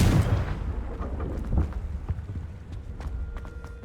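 Confringo, a blasting spell in Hogwarts Legacy, is cast at a locked entrance and lands as a loud, deep explosive burst at the start, fading into rumbling debris and scattered clatter with no voices.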